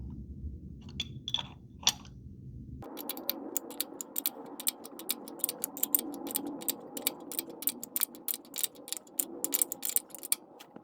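An 18mm wrench ratchets and clicks while tightening a crankshaft position sensor ring on a Ford / Land Rover diesel engine, with rapid, close metallic ticks running steadily over a low background hum after a brief quieter start.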